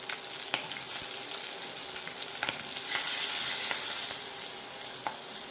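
Turmeric, asafoetida and chillies hitting hot oil for a carrot and beetroot sambharo, a bright continuous hiss and crackle with a few sharp spoon taps, close and steady with no voices.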